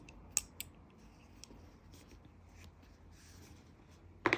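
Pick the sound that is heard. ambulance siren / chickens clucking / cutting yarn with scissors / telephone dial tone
cutting yarn with scissors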